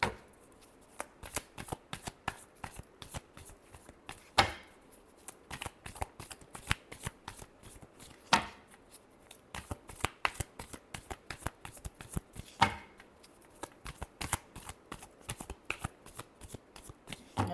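Tarot cards are shuffled by hand up close in a quiet room, a long run of crisp, rhythmic riffling slaps with a few louder bridging bursts.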